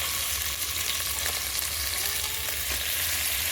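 Chicken pieces sizzle steadily in a hot pan for biryani, a loud, continuous frying hiss with no voices.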